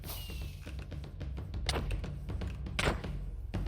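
A Minecraft firework launching amid a busy stretch of repeated thumps and knocks, with a thin whistling rise early on and a couple of brighter bursts later, all fairly close.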